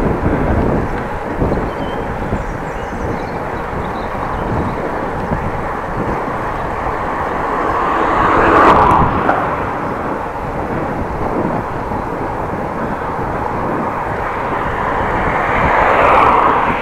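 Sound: headwind blowing while cycling

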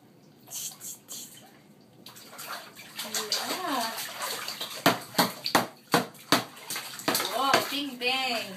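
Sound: child splashing water in bathtub

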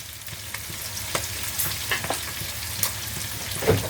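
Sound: shrimp stir-frying in a pan

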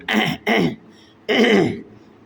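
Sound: cough during prayer

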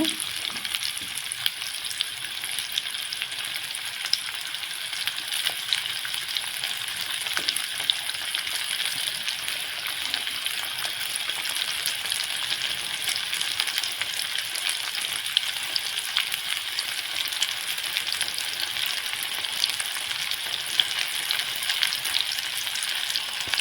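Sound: onions frying in oil on high flame

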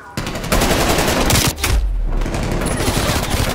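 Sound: gunfire in a shooter video game

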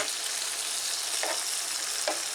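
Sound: beef çöp şiş skewers frying in a pan

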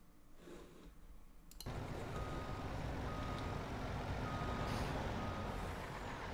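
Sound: fire truck reversing beeps in Farming Simulator 22 video game

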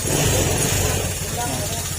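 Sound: Honda Click 150 engine tapping noise from rocker arm or valve guide

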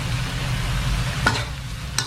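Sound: stir-frying in a wok

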